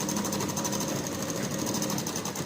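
A sewing machine runs steadily on a straight seam of a petticoat, its fast mechanical chatter continuous and close for the whole stretch, with no talking over it.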